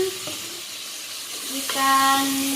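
Stingray fish sizzles and hisses in a hot pan in a home kitchen, with a steady crackle, a brief stir partway through, and a short tonal whistle or hum toward the end.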